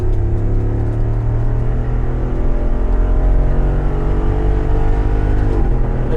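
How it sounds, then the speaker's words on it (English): A Jeep Wrangler 392 V8 in Sport Plus mode pulls hard under acceleration, a loud, steady engine roar heard from inside the vehicle with a rising drone and no talking. "With the Sport Plus mode, you can tell that as soon as I hit the accelerator"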